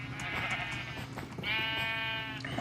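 Sheep in a village-building video game bleat in two drawn-out, wavering calls, the second starting about halfway through and louder, with no talk over them.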